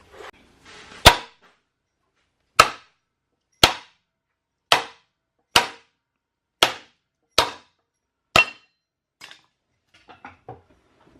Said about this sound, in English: we'll start banging on this and try and getting it out.